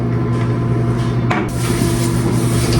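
An air freshener with a Christmas scent sprayed in a bathroom, one short hissing burst over a loud steady hum that stays in the background.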